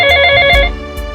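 A phone rings once with a short electronic tone and stops, alone and close by.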